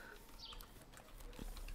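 Soft pigeon-like cooing from birds in an indie video game where the player controls a dog, faint and close with a low hum underneath, the calls coming in brief bursts.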